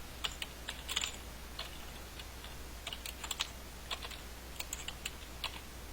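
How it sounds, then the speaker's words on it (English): Fairly quiet keyboard typing heard alone, with irregular bursts of key clicks spread across the whole stretch over a steady low hum. "I'm not even going to finish typing that."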